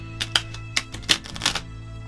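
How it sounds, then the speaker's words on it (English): Several quick, crisp bursts of riffling card sounds, close by, separated by short pauses, with a faint steady hum underneath and no talking. "I'm going to quickly shuffle a bit more."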